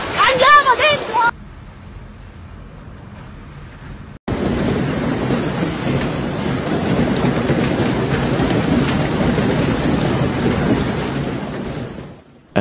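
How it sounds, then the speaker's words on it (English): Heavy hailstorm with rain and thunder in Sicily, a dense, steady roar of pelting hail and rain that swells loud and continuous after a brief voice and a quieter lull. "A sudden and intense hailstorm swept across Sicily on a Tuesday afternoon, leaving streets submerged"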